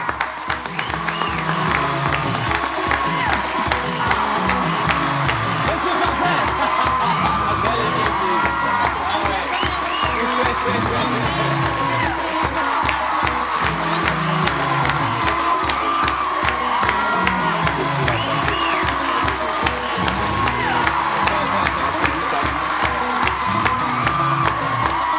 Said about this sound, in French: On applaudit en musique.